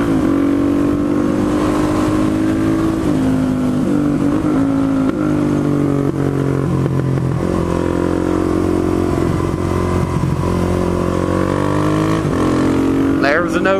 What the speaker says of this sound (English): There's a no clutch shift there.